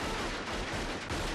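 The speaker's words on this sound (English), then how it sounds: "he's actually firing right into the camera" Guns loaded with wax-filled blanks fire straight toward the camera during a staged shootout, producing dense, loud, rapid bursts of overlapping close-range shots that crackle without pause for the whole moment.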